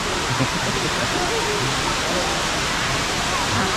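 Steady roar of a waterfall in Kanchanaburi, Thailand fills everything, a constant rushing wash of water, with people's voices faintly under the noise.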